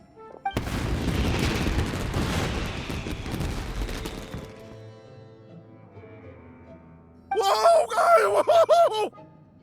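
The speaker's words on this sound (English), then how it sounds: "Yoimiya, this is turning into a bit of a fireworks display" Fireworks burst in Genshin Impact as a dense run of loud booms and crackles for several seconds, then fade; a voice briefly sounds near the end.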